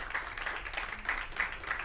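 A church congregation claps together in praise during a Spanish-language service, giving a steady, dense patter of many hands that fills the room without pause.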